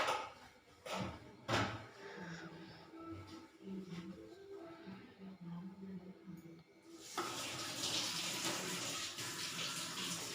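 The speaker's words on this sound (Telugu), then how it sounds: "ఇలా తోమేసిన తర్వాత వాటర్ అన్నీ పోసి కడిగేసుకోవాలి" A steel kitchen sink is scrubbed and then rinsed, with scattered clatters and scrubbing giving way to a steady rush of running water in the last few seconds.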